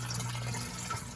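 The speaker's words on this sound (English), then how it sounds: "in the sump, you can see I have water flowing out through here" Water flowing out into an aquaponics sump under a small aquarium setup, a steady close trickle and splash with a constant low hum running beneath, no pauses.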